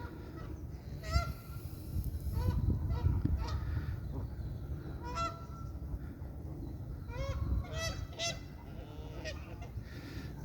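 Several geese honk and squabble at a waterside, with loud overlapping nasal calls coming in bursts over a low outdoor rumble. No one speaks.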